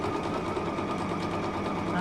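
A sewing machine runs steadily through a wide zigzag stitch, its motor whirring and needle chattering in a continuous close hum with no pauses.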